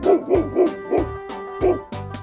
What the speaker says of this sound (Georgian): მე ვარ ძაღლი, ვიცი კარგი ყეფა და ღრენა.